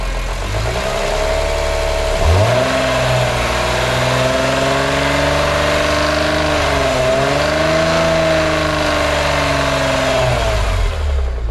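A BMW E46 M3 with an S54 engine runs warm at about 75 degrees oil temperature, rumbling and rattling from the VANOS at a loud, steady idle, with two brief revs that rise and fall, close up with no talk.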